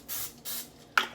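Cooking spray is sprayed on beef empanadas in an air fryer, giving three quick close hissing bursts, the last one sharper and louder.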